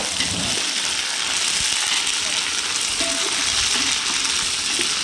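Ginger garlic paste frying in oil for mutton biryani gives a loud, dense, continuous sizzle with faint stirring close by, and a voice talks softly underneath.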